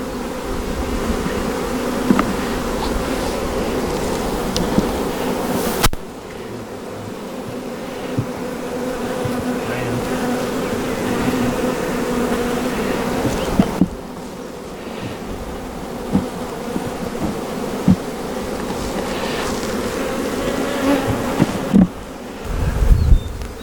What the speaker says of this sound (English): Nice young bees on there.